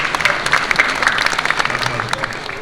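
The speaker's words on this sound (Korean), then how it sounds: "박수로 인사하겠습니다." An audience claps at a church presbytery meeting, a steady patter of many hands held throughout at moderate loudness, with a faint voice underneath.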